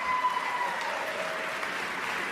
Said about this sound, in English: There was a small spattering of claps